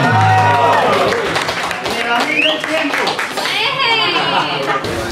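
Guests applaud at a gay wedding in Palestina, Caldas, Colombia, with loud, dense clapping mixed with chatter and children's voices, while people talk over it throughout.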